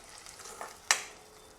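A spoon stirs tomato puree into fried onions in a pan over soft sizzling, ending in one sharp scrape or clink against the pan.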